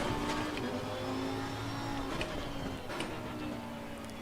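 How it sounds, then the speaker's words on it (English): A race car engine in the video game Assetto Corsa Competizione turns over and settles into a low, steady, faint drone with a slight rise and fall in pitch. "I hit my ignition button and then I turn the car on"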